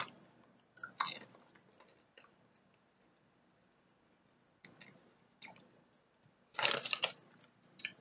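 Someone munches onion and cheese flavored Lays potato chips in a quiet room, with scattered soft crunches building to a louder, crisp burst of chewing near the end.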